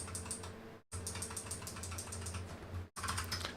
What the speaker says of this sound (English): how else will you enjoy the dulcet tones of my clickety-clackety keyboard?